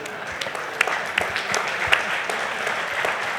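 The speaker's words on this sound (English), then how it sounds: "I'm in Labour, I'm not used to applause." Audience applause for a speaker at a talk on immigration, justice and culture in Britain, a continuous patter of many hands clapping at moderate volume with a few sharper claps standing out.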